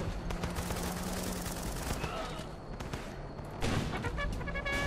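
Gunfire in the video game Running With Rifles: sustained rapid rifle and machine-gun bursts rattle almost continuously, with a heavier cluster of shots near the end, alongside faint game voices.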